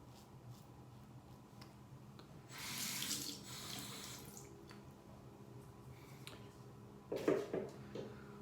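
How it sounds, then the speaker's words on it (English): Water runs quietly from a sink faucet while someone rinses their face, with a louder gush in the middle and a short splashy burst near the end. "just rinsing from the faucet"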